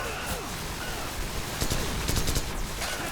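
Rapid, crackling bursts of gunfire from the video game Call of Duty 4: Modern Warfare fill the scene as a dense, noisy barrage that swells toward the middle, with an excited voice talking over it.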